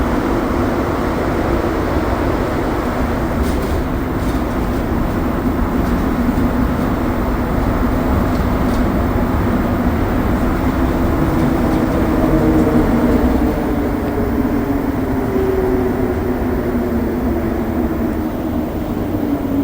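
A steady, loud rumble and whine of a Montreal STM metro train in motion fills the whole stretch, with no voices.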